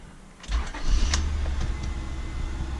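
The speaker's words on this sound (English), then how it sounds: "So let's crank the engine now" A Honda Accord with a hard-starting fault cranks briefly and then fires up, its engine settling into a steady, close, loud idle rumble with no talking.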